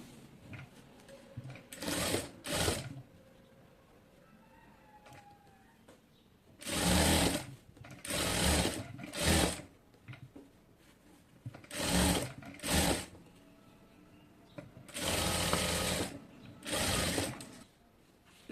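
A sewing machine stitches a pocket onto a salwar, running in short, loud bursts of rapid mechanical clatter with brief quiet pauses between them. It is close by and heard alone.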